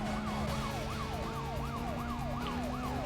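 Police sirens wail in a fast, repeating rising-and-falling sweep during a car chase in Need for Speed Most Wanted, backed by a steady engine drone, moderately loud with no talk.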